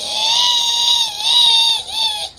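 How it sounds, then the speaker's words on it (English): A Chupacabra creature screams in a radio drama set in a juvenile hall, with one loud, shrill, wavering screech sustained for about two seconds, close and alone, rising and dipping before it cuts off. "The other Chupacabra screams"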